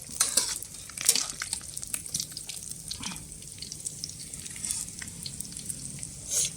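Mackerel frying in hot oil in a home kitchen, a steady crackling sizzle with bursts of spitting and popping, close and fairly loud, with no voices over it.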